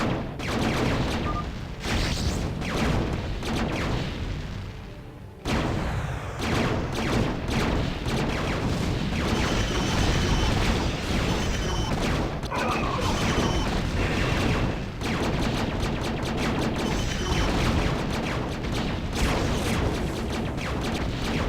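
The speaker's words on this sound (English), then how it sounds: "Tanks will blast them to bits." Terran siege tanks in StarCraft: Brood War open fire on enemy turrets, with dense, continuous cannon blasts and crashing explosions packed closely for the whole stretch, loud and overlapping, broken by a single brief lull.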